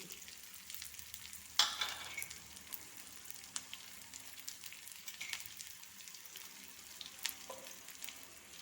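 Garlic, green chilies and shallots frying for a chicken dish, a soft, quiet sizzle with scattered scraping and tapping from stirring and one louder clatter early on.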